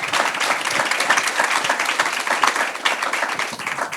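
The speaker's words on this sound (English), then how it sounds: "Let's give them a round of applause." An evening panel discussion audience breaks into steady, dense clapping that holds evenly throughout, close and fairly loud, with no voices over it.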